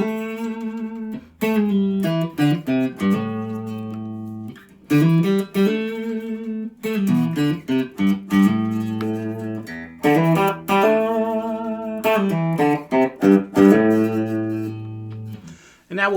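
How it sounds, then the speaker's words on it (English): Clean electric guitar, a Tease SBH-HD Tele-style, picking single notes and short melodic phrases, with brief pauses between runs. "We'll play some single notes in all the positions just so you can hear the guitar."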